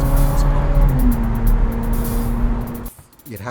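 A Ferrari 430 Scuderia engine roars loud and close. Its F1 transmission bangs through a crisp gearshift, then the engine briefly drops away before revving back up.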